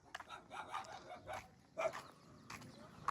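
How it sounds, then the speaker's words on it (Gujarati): A puppy hiding under a parked truck gives several quick, high yapping barks in short bursts, faint and somewhat distant, with a little background noise between them. "ગલુડિયા જો આ ખટારા નીચે હે તોય ભાંહે હે હાલે રોકી હાલ"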